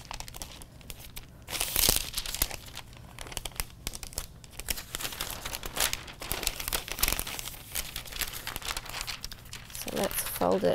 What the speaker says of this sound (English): when I'm folding and manipulating the paper, I'm just using this top one